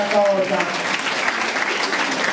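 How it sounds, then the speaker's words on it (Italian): An audience applauds a speaker at an Italian debate event, with sustained dense clapping close by throughout and voices mixed into it. "ringrazio dell'applauso"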